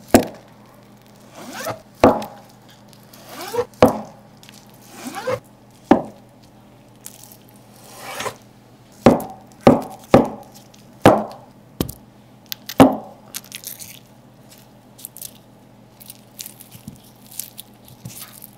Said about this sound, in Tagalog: Hiwain natin into cubes yung tofu.